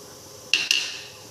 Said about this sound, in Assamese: মই এই হুইচেলটোৱে লৈ লৈছোঁ চাওক